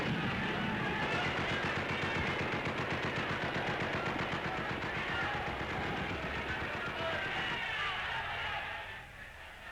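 Rapid gunfire from the 1944 liberation of Rome fills a period newsreel, a dense rattling burst of shots that runs almost without pause before fading near the end, with a narrator speaking over it.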